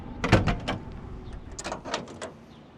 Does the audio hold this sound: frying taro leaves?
no